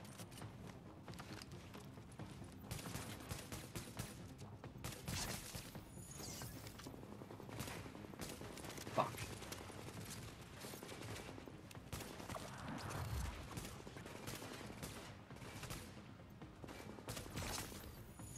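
Gunfire in the video game Tom Clancy's The Division: dense, continuous bursts of shots and clattering action at a low, steady level, with no clear talk over it.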